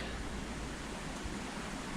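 Water pouring over a beaver dam forms a small waterfall, a steady, faint broadband rush with no change in level and no voices.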